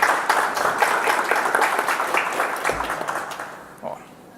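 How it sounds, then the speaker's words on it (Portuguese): Audience applause for a speaker at a Startup Grind event, dense steady clapping from a seated crowd that holds for several seconds and then thins and fades at the end. "Uma salva de palmas para ele."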